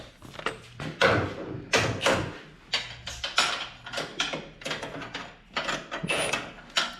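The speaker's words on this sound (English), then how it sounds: "Get that torque down. Tighten up the center." A wrench ratchets in short bursts while bolts are torqued down on a Polaris radius rod, with repeated metallic clicks and clanks close by under intermittent handling noise.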